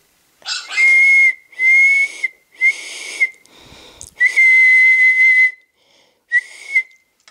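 Person whistling to a dog in the Nintendogs + Cats video game: six short, loud, close whistles at the same pitch, with gaps between them and no other sound.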